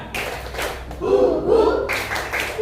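Classroom clapping rhythm game, tepuk, with children clapping in short bursts at the start and end and a spoken or chanted stretch in the middle; fairly loud and close.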